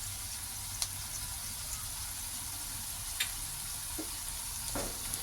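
Poha mixed with turmeric and salt sizzling and frying in a pan, a steady close hiss with a few light scrapes and clicks of stirring.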